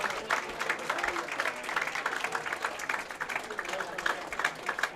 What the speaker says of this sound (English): Let's hear a big round of applause for Roger Dalkin.